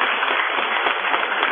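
An audience at a Buddhist sermon breaks into steady, dense applause, many hands clapping together in a continuous wash of sound with no pauses and no voices over it.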